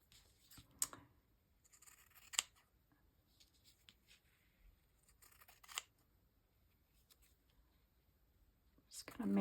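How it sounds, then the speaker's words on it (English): Scissors snipping paper into rectangles for a junk journal, a few crisp cuts at scattered intervals, fairly close and quiet against a hushed room. "All right, we're going to cut some more here."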